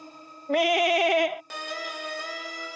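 A goat bleats in a loud, quavering, pleading cry, followed by a sustained tonal note in an animated Aladdin episode.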